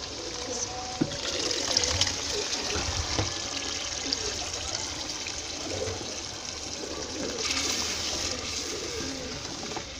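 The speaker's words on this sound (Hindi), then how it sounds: "जिस पानी में हमने इसको उबाला था वो हमने निकाला नहीं है," Boiled chana dal and its cooking water are poured into a pot, producing a continuous splashing, trickling pour with a faint clatter, heard up close at moderate level.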